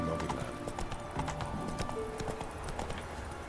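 Galloping horse hooves in The Witcher 3 video game, a rapid, even clip-clop rhythm with a brief whinny, loud and close against a busy game soundscape.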